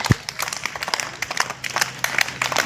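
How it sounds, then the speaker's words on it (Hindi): A crowd of children at a school camp claps after a yoga session, with many scattered hand claps overlapping in an irregular patter, moderately near, alongside faint background murmur. "हर प्रकार से बच्चे ताली बजाते हुए"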